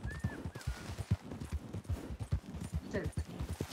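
Galloping horse hooves in a roleplay video game set on a ranch, a fast regular clip-clop pounding throughout, close and fairly loud, with a few brief tonal game sounds over it.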